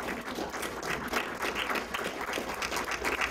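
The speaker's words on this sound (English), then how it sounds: "Yes, go ahead, applaud that." Audience applause at a climate change talk, a steady dense patter of many hands clapping at moderate distance, sustained throughout without pause.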